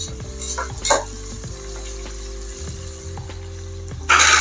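Sliced medium-sized onions fry steadily in a pan for Thiragabatha rice, a continuous low sizzle with occasional stirring scrapes and light clinks of a utensil, close and with no talking.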